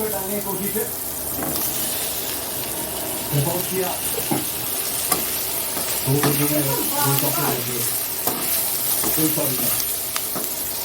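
Potatoes, vegetable stalks and green chillies stir-fry in a pan with a steady sizzle and repeated scraping and stirring strokes, close up, while a voice talks intermittently over the cooking.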